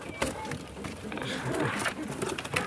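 Pigeons in a pigeon farm coo softly nearby amid rustling and a few flutter-like bursts, with someone talking over them.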